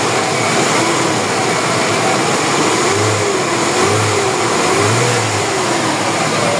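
A Mitsubishi Fuzion 4G64 car engine, repaired after losing compression from a cracked exhaust valve in cylinder 4, runs loudly and steadily nearby while warming up, with a few gentle revs rising and falling over the constant drone.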